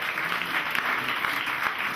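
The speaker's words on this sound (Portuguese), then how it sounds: "vamos dar uma salva de palmas para Ele que reina" A church congregation applauding, a dense, steady round of clapping from many hands filling a hall, continuous and fairly loud throughout the short stretch with no voices standing out.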